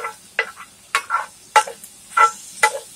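Spoon scraping and stirring a cumin-spiced nacho filling in a pan, five distinct scrapes spaced roughly half a second apart, close and moderately loud, with no talking.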